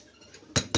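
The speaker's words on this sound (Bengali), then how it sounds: "কেশর আর ক্যাপসুল দিয়ে ভালো করে এটা মিশিয়ে নেব।" A spoon clinks twice against a bowl while mixing homemade neem and D-tan soap ingredients such as rice powder, lentil powder, almond oil, rose water, coffee, honey and saffron, two sharp close knocks after a quiet start.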